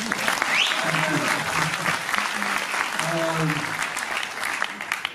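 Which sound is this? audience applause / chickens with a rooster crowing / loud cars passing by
audience applause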